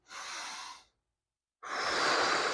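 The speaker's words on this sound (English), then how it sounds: "It is deep breathing in through the nose," Two long, airy breaths with a brief silence between them, taken slowly during a relaxing upper-arm self-massage routine: a deep inhale drawn in through the nose, then an extended, softly rushing exhale, close and steady with no talking.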